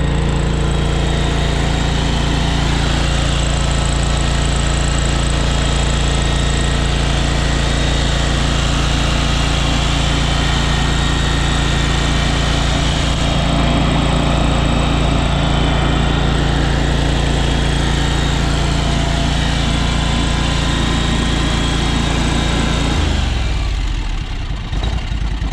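A John Deere X585 lawn tractor engine idles steadily and close by, running over rich, with a constant low drone throughout that drops away abruptly near the end.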